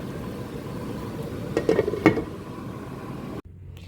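Taro stolons (kochur loti) frying and being stirred in a pan, a steady low sizzle broken by a few clinks and scrapes of a spoon near the middle before it cuts out abruptly.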